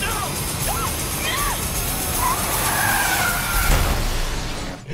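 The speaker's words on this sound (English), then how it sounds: "Doesn't use the car crash from Highwaymen this time?" Tires skid and a car crashes in the horror film Feast II: Sloppy Seconds, a loud continuous screech and rumble with squealing tones, ending in a brief impact.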